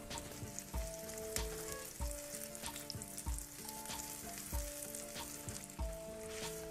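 Eggplant slices frying in oil hiss softly and steadily under tonal background music with a regular low beat. No one speaks over the quiet sizzle.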